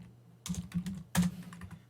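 A computer keyboard is typed on in two short bursts of crisp, close key clicks separated by a brief pause, with no voices heard.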